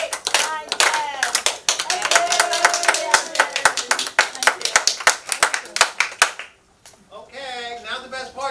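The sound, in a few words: group clapping hands ten times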